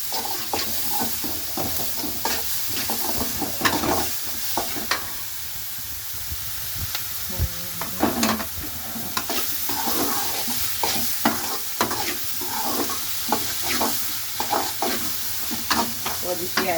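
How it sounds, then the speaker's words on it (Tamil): Capsicum stir-frying in a pan, a steady sizzle with repeated scraping and stirring strokes of a spatula, fairly close and continuous, with no talk. "கேப்சிகம் சேர்க்க போகிறேன்."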